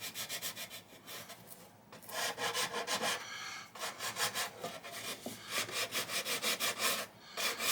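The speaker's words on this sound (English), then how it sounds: "I'm going to come in here just with the sanding stick just to knock that down." Repeated back-and-forth rasping of a sanding stick knocking down excess material on a U.S.S. Reliant scale model build, steady rhythmic strokes close up with a few brief pauses.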